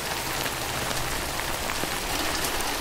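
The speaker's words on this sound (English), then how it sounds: "Do we literally just wait out the rain?" Steady rain from the video game Death Stranding, heard from inside a shelter: a dense, even hiss of drops pattering on a surface, continuous and fairly close, with no voices.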